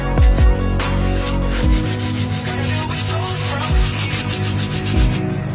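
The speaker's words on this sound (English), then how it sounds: "Just going to take a little sandpaper." Hand sandpaper rubs across the thin fiberglass deck of a 12-foot Wood Duck hybrid boat in close, repeated scratchy strokes over a droning tonal hum.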